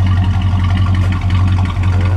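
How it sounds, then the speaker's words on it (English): 1956 Chevrolet Bel Air two-door post engine idling smoothly, a deep steady low rumble heard up close and alone, with no speech. "Let me listen to that idle."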